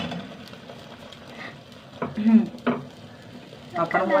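An egg sizzles and crackles as it fries in a pan, a steady hiss that swells in short bursts while a voice speaks intermittently over it.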